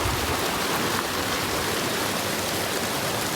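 Creek water flowing steadily beside a campsite on the John Muir Trail near Forrester Pass, a continuous broadband rush and babble that stays even and fairly loud throughout, with no talking.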